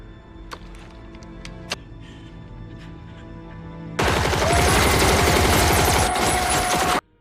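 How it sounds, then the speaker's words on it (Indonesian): Gunfire erupts in a film shootout with gangsters: a few sparse shots and clicks, then a loud, dense burst of rapid automatic fire lasting about three seconds before cutting off abruptly. "Teman-teman Markus berhasil lebih dulu menembak anggota gangster itu."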